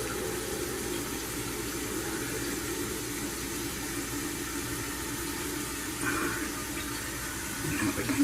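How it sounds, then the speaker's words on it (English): Water rushes steadily into a toilet tank after its supply valve is opened during a fill valve replacement, a continuous close hiss and gurgle that swells slightly near the end. "There's the water coming out, and hopefully it stops where it's supposed to."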